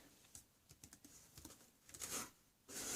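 Fingers tap a Samsung Galaxy Go phone's touchscreen keyboard in short, uneven bursts of quiet, close clicks and pats, with a brief pause before a final run of taps.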